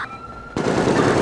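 Sustained automatic gunfire in a video game erupts suddenly after a brief quiet moment with a faint tone, continuing loud and dense to the end.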